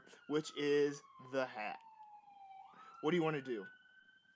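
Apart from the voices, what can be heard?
siren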